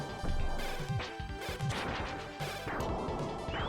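Noise Crush weapon fire in Mega Man 7, a run of crunchy, crashing retro game blasts that repeat over busy chiptune-style music, loud and close with no talking.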